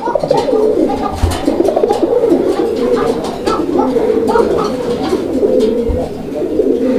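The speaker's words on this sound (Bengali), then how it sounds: "শুধু এক জোড়াই আছে গররা কবুতর" A pair of Gola pigeons coo close by, their soft, throaty calls overlapping and repeating steadily for the whole stretch with no pause.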